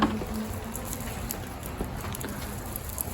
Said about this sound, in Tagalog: Wala nang gaanong, ay, may ulan pa rin.